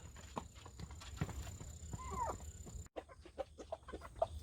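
Araucana, Silkie and native Korean chickens peck at a Korean pumpkin nearby, with soft clucks and busy, irregular pecking and tapping throughout, plus a short cut partway.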